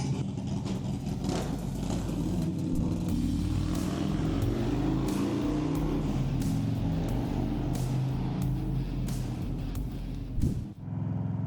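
A Harley touring motorcycle engine idles steadily while warming up, a continuous deep rumble with a throaty low pulse, close and loud, dipping briefly near the end.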